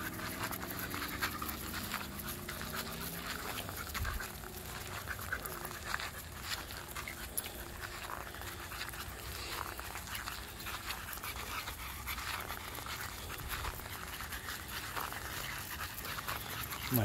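Three 13-year-old dogs pant rapidly and steadily close by in a park, a continuous breathy rhythm with faint scratching and shuffling underneath.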